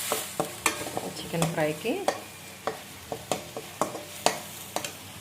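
Chicken fry is stirred in a pan, producing a regular series of sharp spatula scrapes and knocks over a faint sizzle. The sound is close, and a voice speaks briefly in the middle.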